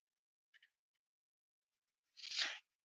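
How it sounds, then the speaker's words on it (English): Someone shuffling things around on a desk close to the microphone: two faint quick taps, a pause, then a single short, louder crinkly rustle in otherwise quiet surroundings. "like me shuffling around on the desk."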